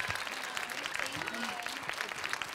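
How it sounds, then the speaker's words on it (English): Audience applause at the Berlin premiere of the film Burlesque, a steady, dense wash of clapping from a large crowd that holds for the whole stretch, with a voice speaking over it. "Big round of applause for our guests tonight."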